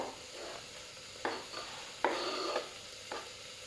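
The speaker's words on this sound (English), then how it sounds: "So I've got my onions and my garlic in here now, cooking away nicely" Onions and garlic fry in a pan for a vegetarian chilli, giving a soft steady sizzle broken by several brief scraping stirs, close by with no talking.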